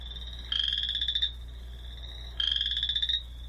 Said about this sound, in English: So here's just the one frog, so you can get a better idea of what the call sounds like.